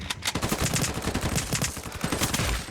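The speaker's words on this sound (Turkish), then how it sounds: "Mermiler havada uçuşuyor ya." Rapid gunfire and bullets in a multiplayer shooter match, dense bursts of shots rattling continuously and close, fairly loud, with no talking.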